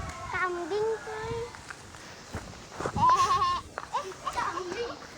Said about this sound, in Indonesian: Kambing tuh.